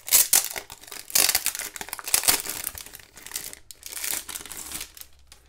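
A plastic sticker sheet pack opened up close, loud crinkling and crumpling in dense bursts that fade toward the end, no voices.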